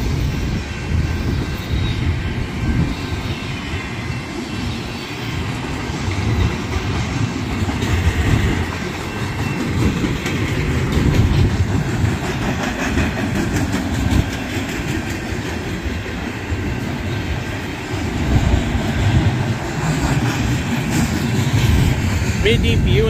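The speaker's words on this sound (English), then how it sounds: "But it's moving, and this first train hasn't even gotten all the way through yet." A Union Pacific intermodal freight train rumbles past nearby in a continuous heavy roar, wheels clattering on the rails, steady for the whole stretch.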